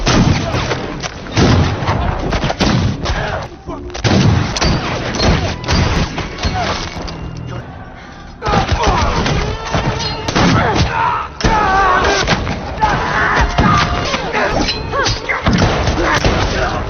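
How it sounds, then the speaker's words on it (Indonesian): A fierce pirate-era gunfight rages in a dense, continuous barrage of loud shots, thuds and booms, with crashes and clashing noise layered over a mix that includes voices. "baku tembak yang sengit pun kembali pecah."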